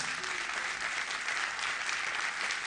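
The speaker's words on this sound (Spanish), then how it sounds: "Denle un fuerte aplauso a Dios" Steady, dense applause from a large church congregation, continuous and even throughout with no pauses.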